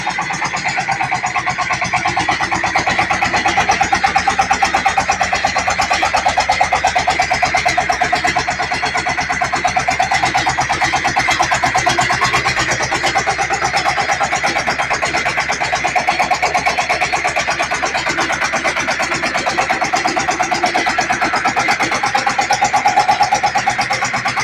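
A water pump engine starts up and settles into a steady, loud mechanical drone that carries on without a break, with a constant buzzing hum and no voices.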